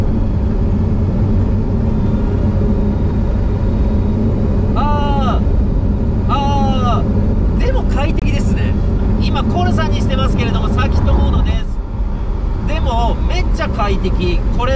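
A Lamborghini Sián Roadster drives in Corsa mode, heard from the cabin as a steady engine and road drone under continuous talking.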